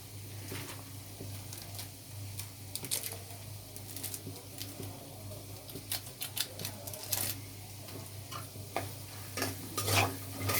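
Chicken noodles seasoned with Maggi masala stirred in a sizzling pan, with a steady frying hiss under repeated scraping and clattering spatula strokes, fairly quiet and close throughout.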